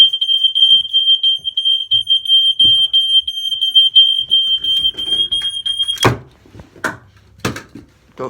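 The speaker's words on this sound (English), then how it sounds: "I fucking set the alarm off." A smoke alarm emits a steady, piercing high-pitched beep for several seconds, then cuts off, followed by a few sharp knocks and clatters.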